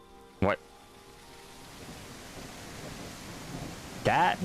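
Heavy rain falls as a steady broadband hiss throughout, with two brief sharp bursts of other sound near the start and end.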